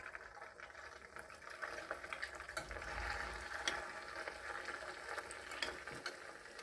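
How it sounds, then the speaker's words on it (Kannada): Rava gulab jamoon balls fry in hot ghee with a soft, steady bubbling sizzle and a few faint clicks, fairly quiet throughout with no talking. "ತುಪ್ಪ ಕರಗಿದ ಮೇಲೆ ನಾವು ಈ ಜಾಮೂನುಗಳನ್ನು ಫ್ರೈ ಮಾಡ್ಕೊಳ್ಳೋಣ"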